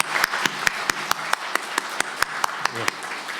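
A church congregation claps at a Sunday worship service after a baptism, giving evenly spaced, sharp individual claps in a steady rhythm, fairly close and moderately loud, with a brief murmur of voices near the end.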